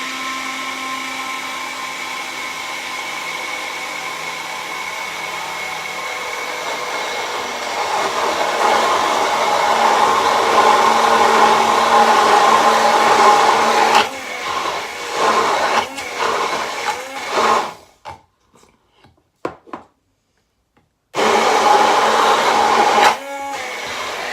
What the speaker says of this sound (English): We're just going to zap it with the stick blender